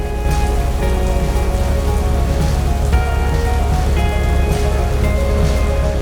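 Rain falls steadily over the city of Kunming in Yunnan, China, a loud, close, even patter of drops on surfaces with a low rumbling undertone throughout.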